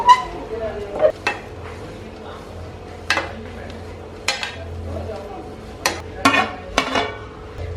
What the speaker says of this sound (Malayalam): ചെറുതായിട്ടൊന്ന് ഇളക്കി കൊടുക്കാം